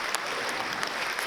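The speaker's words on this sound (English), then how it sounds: "Put your hand up if you're a type wonderful. Give them a round of applause" Steady, fairly soft audience applause at a gala ball, continuous clapping from a crowd with a few sharper individual claps standing out.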